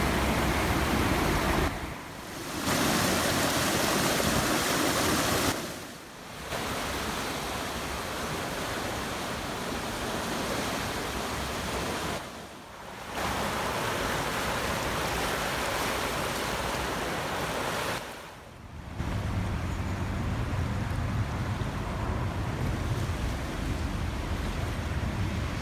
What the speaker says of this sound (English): the River Stour overflow channel, which is usually just a trickle, was more like a mountain torrent